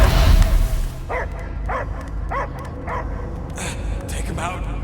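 A dog barks about six times in a steady, evenly spaced rhythm, clear and fairly close, after a burst of loud noise at the start.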